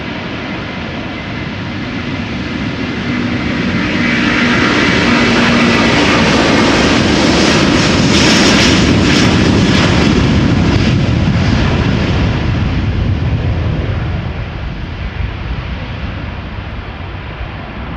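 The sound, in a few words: Delta Airbus A330-300 engines spooling up for takeoff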